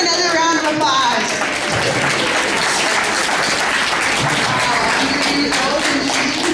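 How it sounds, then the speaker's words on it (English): Steady, continuous applause from a gathered crowd at a grandmother's 100th birthday party, following her song, sustained loud clapping throughout with voices mixed in beneath. "Let's give her another round of applause"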